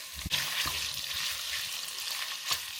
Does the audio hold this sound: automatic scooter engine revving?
no